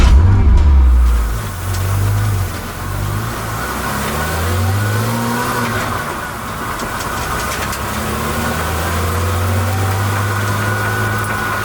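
Porsche GT3 race car on a circuit, its engine droning and revving under load with rising and falling pitch as it drives the track, loud and continuous from inside or close by.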